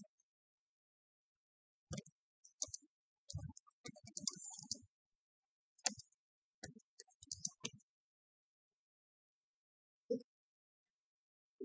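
Sparse computer mouse clicks in short bursts separated by long silent gaps, quiet and close, with a few faint scattered ticks between them.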